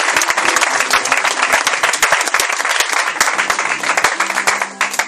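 A church congregation bursts into dense, sustained applause and clapping during a French-language worship service, loud and continuous throughout, with a crowd murmur beneath the claps.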